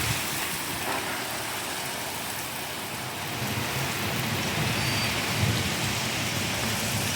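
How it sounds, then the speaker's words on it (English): A hailstorm between Lawrence and Decatur, Michigan, with dense steady rain and hail hammering surfaces and low rumbling thunder underneath, a continuous loud wash of sound with no voices. "Got some hail."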